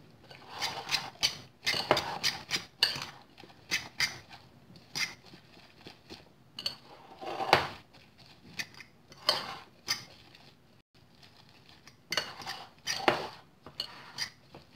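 A spoon scrapes and clinks against a bowl while eggplant stuffing is mixed with spices, in irregular close bursts separated by short pauses.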